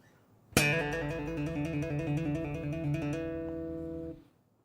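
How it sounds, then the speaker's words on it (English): Bass guitar trill made of rapid hammer-ons and pull-offs, slap and pop technique: a single clear attack followed by a quick, even alternation between two notes that rings for about three seconds before fading out. "a trill is basically a collection of hammer-ons and pull-offs"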